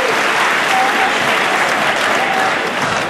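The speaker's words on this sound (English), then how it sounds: "give yourself a round of applause for helping us do that." A festival crowd gives loud, sustained applause, a thick, continuous roar of clapping that fades slightly right at the end.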